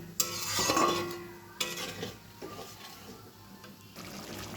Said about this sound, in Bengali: আর একবার ভালো করে কষিয়ে নেব